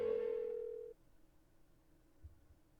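In the Persona 4 video game, a phone tone sounds clearly for under a second and then cuts off, leaving quiet low background with a faint thump.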